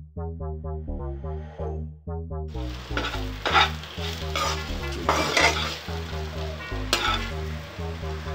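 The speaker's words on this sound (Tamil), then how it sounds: "இந்த மாதிரி இந்த பக்கத்துலேருந்து கிளறதா இருந்தால் ஹை ஃப்ளேமில் நம்ம இப்போ வச்சுக்கலாம்" Ivy gourd fries on high flame in a pan as a spoon stirs it, bright sizzling and frequent metallic scraping clatter growing louder after a quieter start, close and busy, with a low tonal hum beneath and no voices.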